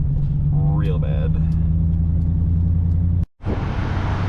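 A high-mileage Chevrolet Silverado pickup with a failing transfer case drones loudly with a low, steady hum and rumble, briefly cutting out before resuming; a voice speaks over it early on.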